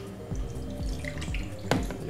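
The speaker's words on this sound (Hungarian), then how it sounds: "az egyik alá fogok egy kevés folyadékot önteni" A little water is poured into a baking tray holding jerk pork ribs, giving a few soft drips and splashes over faint kitchen background, with one sharper splash near the end.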